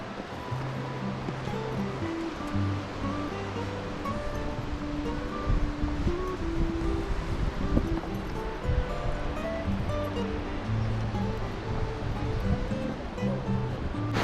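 A mountain stream near Zakopane and Morskie Oko in the Tatras rushes steadily while hikers cross it on the trail to Czarny Staw, with continuous moderate water noise and scattered faint shifting sounds.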